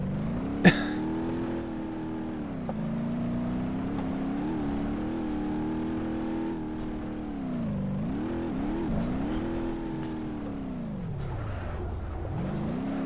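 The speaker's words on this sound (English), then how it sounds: "A little bit of wheel spin from all 4 tires there." A diesel Ibishu Pessima wagon in a driving game revs steadily, its engine droning and rising and falling in pitch as all four tires spin, with a sharp click near the start.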